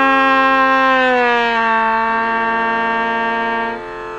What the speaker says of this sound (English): if I tried to play the low B while fingering a D